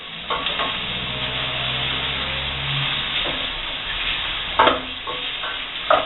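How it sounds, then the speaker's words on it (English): Bacon sizzling and frying in a soup pot, a steady crackling hiss with a few scraping stirs of a utensil against the pot, close and moderately loud, with no voices. "I'm adding the bacon to help with the flavouring of the base of the soup"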